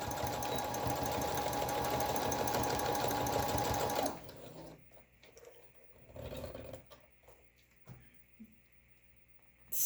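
A sewing machine stitches elastic onto a cloth face mask, running loud and steady for about four seconds before stopping, followed by quieter rustling and handling of the fabric.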